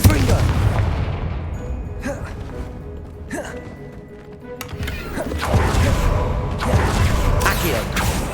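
Confringo blasting spell explosions in the video game Hogwarts Legacy, several sharp booming impacts scattered through a busy game soundscape with mechanical clatter and character gasps.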